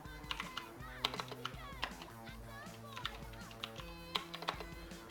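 Rapid typing on a computer keyboard during a malware analysis walkthrough, soft irregular key clicks in quick bursts, faint under background music or hum with a voice present.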